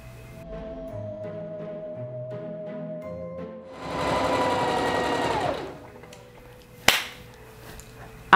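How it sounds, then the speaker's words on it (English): Sewing machine stitching dress panels for a Bride of Frankenstein costume: a quiet hum at first, then a louder steady whirring burst of stitching for about two seconds, followed by a sharp click. "I'm gonna sew them up and attach them to the sides"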